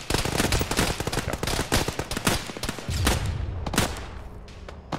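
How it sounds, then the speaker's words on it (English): Heavy firefight in the military shooter Arma, loud automatic bursts and scattered single shots close by, thinning out toward the end with fainter distant reports. "Judge, I'm shooting over you."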